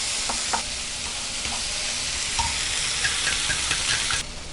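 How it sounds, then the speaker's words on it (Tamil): Grated carrot and capsicum sauté in a pan, making a loud, continuous sizzle with soft scraping stirs scattered through it and no voices. "இப்போ நம்ம துருவி வச்சுருக்கிற கேரட், கேப்சிகம் இது வந்து ரொம்ப வேகணுங்கிறது இல்லை, நம்ம பாதி அளவுக்கு வெந்தாலே போதும்"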